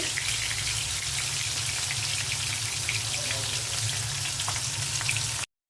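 Pointed gourd (potol) frying in hot oil, a dense, even sizzle with faint pops that runs steadily for over five seconds before cutting off abruptly, no voices.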